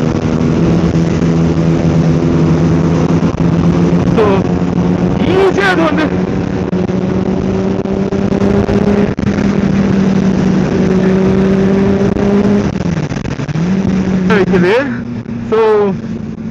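A Benelli 600i motorcycle with an Ixil exhaust being ridden: a loud, steady four-cylinder engine drone with rising and falling revs, a few sharp throttle blips and gear changes, and wind rush throughout.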